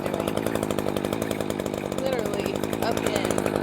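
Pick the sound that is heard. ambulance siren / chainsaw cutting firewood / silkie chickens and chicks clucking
chainsaw cutting firewood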